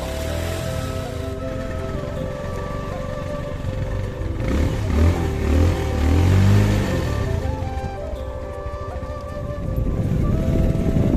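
A sport motorcycle's engine runs on an unpaved, muddy rural road in Nepal, its drone steady and close, swelling into a louder rev about midway and again near the end.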